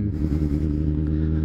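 A motorcycle engine with a modified chain-kit gearing revs close by, a brief loud, rough drone holding fairly steady for a moment.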